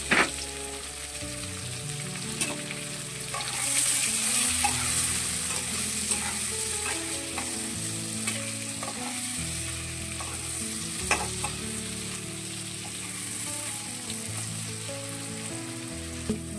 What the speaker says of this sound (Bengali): আমি কেটে রাখা কোচানো পেঁয়াজটা দিয়ে দিলাম।